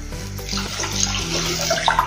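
Water poured into a pot of chana dal rice pulao, a close, steady splashing gush that deepens as the pot fills, with no talking.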